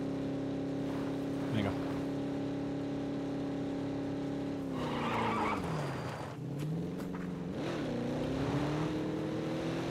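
A car in a video game holds a steady engine drone, then its pitch drops and wavers as it skids midway, while players talk over it.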